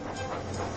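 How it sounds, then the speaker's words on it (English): A Hornby or Bachmann model train running on its rails, giving a brief steady rolling rattle with faint rhythmic clicks, close and moderately loud, with no voices. "Diesel teased Thomas with every click and every clack"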